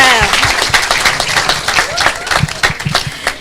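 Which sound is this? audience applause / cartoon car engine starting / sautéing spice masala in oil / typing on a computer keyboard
audience applause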